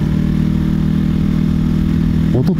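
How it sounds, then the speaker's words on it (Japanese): A Mutt DRK motorcycle engine runs steadily up close with a rattling, clattering mechanical noise, followed by a brief burst of louder engine noise at the very end. "エンジンからカランカランカランっていう"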